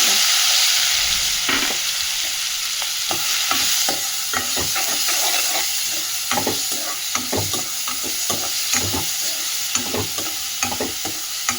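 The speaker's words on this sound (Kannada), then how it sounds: "ಈಗ ಸಣ್ಣಗೆ ಹೆಚ್ಚಿಟ್ಕೊಂಡ ಆನಿಯನ್ನನ್ನು ಹಾಕ್ತಾ ಇದ್ದೇನೆ" Finely chopped onion fries in a pan with a constant sizzle, while repeated scraping and clinking strokes of stirring come and go throughout, no talking.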